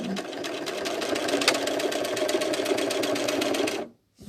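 A sewing machine running steadily for free motion quilting on fabric panels, its fast even stitching rhythm sounding slightly clunky and knocking, close and alone for about four seconds before stopping abruptly.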